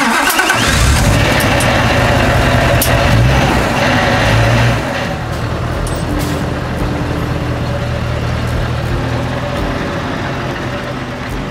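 A 2016 Scania R520 V8 truck engine cranks and fires up loudly nearby, then settles into a steady, deep idle rumble with no talking.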